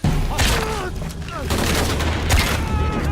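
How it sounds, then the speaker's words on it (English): Bursts of gunfire in the game Shadow of the Tomb Raider crackle in rapid volleys over a low rumble, with short electronic chirps and tones mixed in. "Confirm reports of more gunfire."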